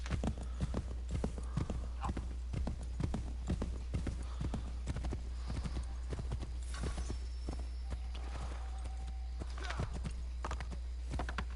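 Steady clip-clop of horse hooves in Assassin's Creed III, a continuous run of regular hoofbeats under a constant low game hum, with faint talk nearby.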